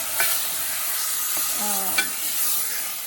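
Tomatoes hitting hot oil in a pan while cooking rajma, giving a continuous bright sizzle with a few sharp scrapes and knocks of stirring; close and steady, with no voices.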